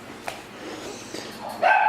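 A dog yips and whimpers in short, close bursts, with a few brief sharp cries and a higher-pitched whining bark near the end, fairly loud against a quiet indoor background.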